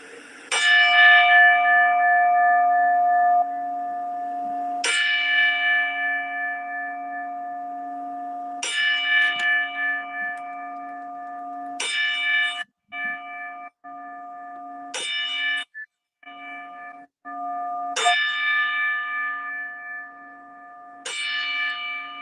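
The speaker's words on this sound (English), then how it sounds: "get that 10-bell salute up" A single bell rings ten slow, evenly spaced strokes for a memorial salute, each clear metallic tone ringing on and decaying before the next, loud and close with no talking.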